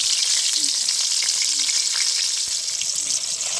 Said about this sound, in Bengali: বেগুনগুলো এরকম উল্টি পাল্টি ভেজে নেবো